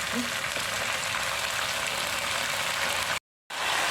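Coriander sizzling with green chillies in a hot pan for chutney, a steady close frying hiss that cuts off briefly near the end before resuming.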